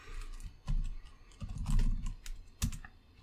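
Keys clatter on a computer keyboard as a build command is entered, several short close bursts of typing separated by brief pauses, with no talk.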